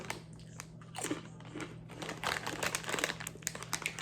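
Crunchy bites and chewing of white cheddar PopCorners popcorn chips, close to the mic, with irregular crisp crackles and crunches repeating over several seconds, mixed with some packet crinkling.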